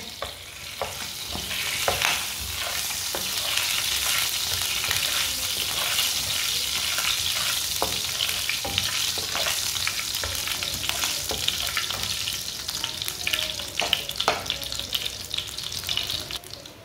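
Whole coriander and cumin seeds fry in a pan of oil, giving a steady crackling sizzle with scattered pops and stirring sounds.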